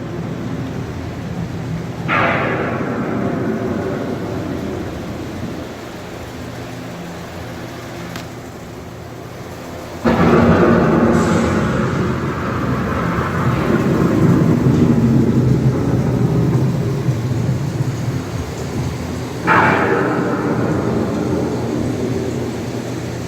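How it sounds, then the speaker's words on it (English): Simulated approaching thunderstorm inside the Epcot Living with the Land boat ride at Walt Disney World: deep rolling thunder rumbles with three sharp cracks spread across a continuous roaring storm bed, loud and enveloping, with no talk. "The approaching storm may seem violent and destructive to us"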